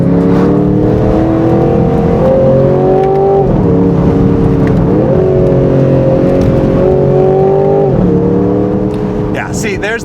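A 2026 Aston Martin Vantage Roadster engine drones loudly and steadily, climbing in pitch before dropping sharply at each gear change, with about three shifts heard up close.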